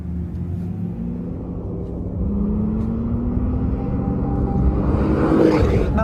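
Porsche 911 Turbo cabriolet driving with the roof off, a low engine rumble that holds steady and then swells as the car accelerates, with rising wind noise near the end.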